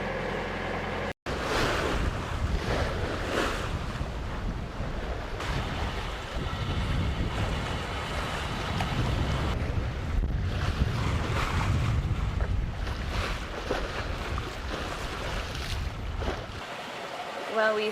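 Steady wind rush and sea wash fill the air aboard a sailboat coasting at about six knots toward São Jorge in the Azores, a continuous loud roar with a brief dropout near the start.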